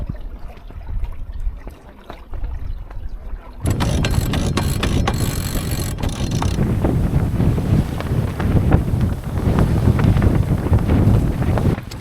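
Gusty wind buffets the microphone on a sailboat under way after leaving Baja, with a steady roar and rushing water that jumps louder a few seconds in and keeps going with no voices.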